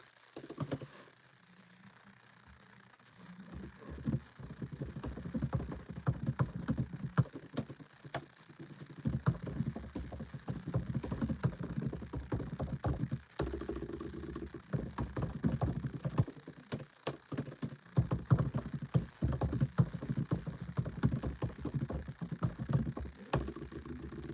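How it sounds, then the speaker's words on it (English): Rapid, irregular clicks of a computer keyboard being typed on, close and fairly quiet, with bursts of keystrokes continuing steadily and no voices. "Sorry, I'm typing up more ideas."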